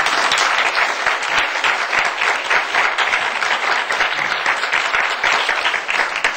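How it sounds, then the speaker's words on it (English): An audience claps steadily at a diabetes conference session, a dense, even burst of applause that fills the room for several seconds with no talk. "give an amazing round of applause to this"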